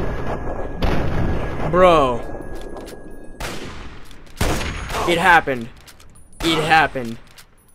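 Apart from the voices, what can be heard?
sniper rifle gunfire in video game Fallout 3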